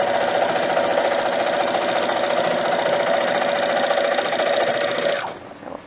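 A sewing machine runs continuously at a fast, even stitching rhythm while back stitching a quilt block, close and steady, then stops near the end as the motor winds down.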